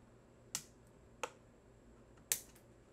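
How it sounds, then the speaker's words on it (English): Wire snips cutting the coil leads on a vape RDA, three sharp, crisp snaps spaced unevenly over a few seconds against a quiet background, no voices. "You're going to take your snips and reach up in there and cut those off."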